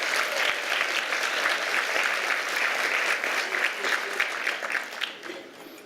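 A breakfast audience gives sustained applause in honour of the Mount Sinai Auxiliary, a dense patter of many hands clapping steadily before tapering off at the end.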